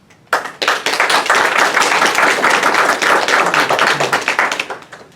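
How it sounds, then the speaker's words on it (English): A council meeting audience in Prairie View gives the police department a sustained round of applause, dense clapping starting suddenly, holding steady for several seconds, then thinning into scattered claps. "I think they deserve a thunderous round of applause for everything that they've done over these past decades"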